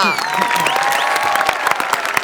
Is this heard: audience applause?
yes